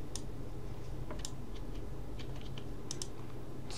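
A computer keyboard key is pressed during After Effects logo animation work, giving a few faint, sparse clicks over a low steady hum in a quiet room.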